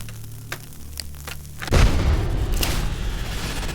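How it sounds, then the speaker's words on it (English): Grenade explosion in Wasteland 2, a single heavy boom that bursts in after a quiet stretch of sparse clicks and hum, then rumbles on loudly to the end. "Our grenade."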